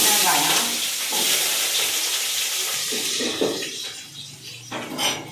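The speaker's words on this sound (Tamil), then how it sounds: "எண்ணெய் காய்ச்சிச்சு, கொஞ்சோண்டு சோம்பு நல்லா பொஞ்சதுக்கப்புறம்" Fennel seeds splutter and sizzle in hot oil in a home kitchen, a close, dense frying hiss with crackles that thins out and fades toward the end.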